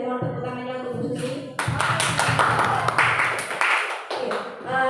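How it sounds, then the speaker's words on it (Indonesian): An audience at a school positive-culture seminar breaks into applause for the speaker, Bu Susi, a burst of many close hands clapping for a few seconds, with a voice talking just before it begins. "Sekali lagi mohon tepuk tangannya untuk Bu Susi."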